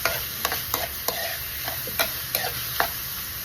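Meat being stirred and sautéed in a pan while cooking chop suey, seasoned with ground pepper, a steady sizzle broken by repeated sharp scraping knocks of the spoon, close up with no talking.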